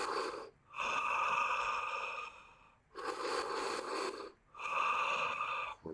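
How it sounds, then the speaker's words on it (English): Breath of fire exhales during a morning breathing ritual: three forceful, rapid breathy bursts close to the mic, each lasting one to two seconds and separated by brief silent pauses. "And a breath of fire exhale"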